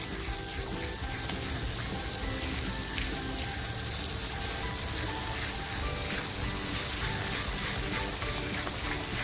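Konkani-style masala frying in oil for a fresh cashew usal, a steady dense crackle and hiss that runs unbroken and fairly loud throughout, with no voices over it.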